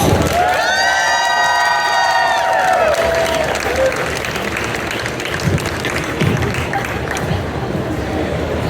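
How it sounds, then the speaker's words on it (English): Convention audience at a Star Wars: The Clone Wars panel gives loud, sustained applause with cheering, whoops and a high shout rising over the crowd noise throughout. "One more time, everyone. Round of applause."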